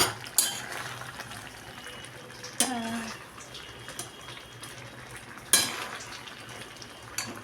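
A spoon scraping and stirring food in a pan on a home kitchen stove while making egg curry, giving a few sharp metallic clinks over a continuous soft sizzle and scraping bed.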